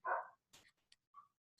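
A dog barks once, loud and near, then yips and whimpers in short scattered bursts with quiet gaps, stirred up by a neighbour's dog.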